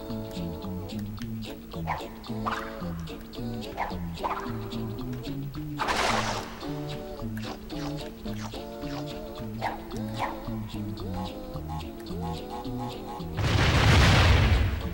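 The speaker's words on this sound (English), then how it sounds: "This is what I mean with these explosion puzzles." Explosions in the video game Crash Twinsanity ring out over continuous game music, with a sharp blast near six seconds and a louder, longer booming burst toward the end.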